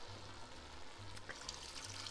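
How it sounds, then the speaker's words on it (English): Water is poured into a pot of historic chili with limp cooked onions, making a soft, steady splashing and gurgling over low background noise. "And so now I'm going to add the water."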